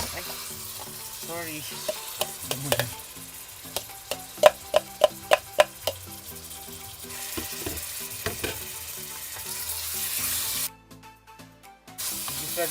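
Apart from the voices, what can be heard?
chicken with salt and pepper sautéing in pan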